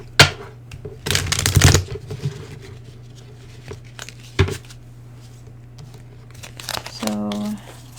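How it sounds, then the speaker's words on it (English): Tarot card deck being shuffled by hand in brisk riffling bursts, close and crisp, separated by quiet gaps and a short spoken phrase. "One more shuffle here."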